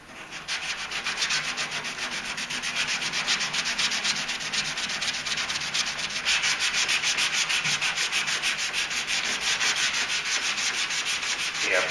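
Steady rhythmic sanding with 180-grit paper on a GMC Sierra tailgate's single-stage white paint, quick back-and-forth rasping strokes close by, continuous for the whole stretch with no talking.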